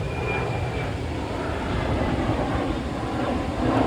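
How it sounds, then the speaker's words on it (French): An airplane passes overhead as a loud, steady broadband roar that holds for several seconds with no voices. "on va attendre que l'avion passe"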